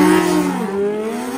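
A Kawasaki ZX14 drag-racing motorcycle accelerating hard down the strip, a loud, close engine roar with rising harmonic tones that climb and hold through the short burst.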